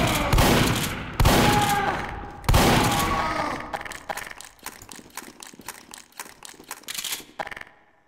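Rocket launcher fire and explosions in Team Fortress 2: several loud, broadband blasts in the first three seconds, then a rapid rattle of sharp, clicking gunfire-like bursts that trails off. No talking.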